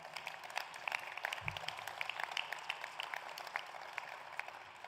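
Scattered applause from an audience at a steel works event, light and fairly distant claps pattering for several seconds at a steady, modest level.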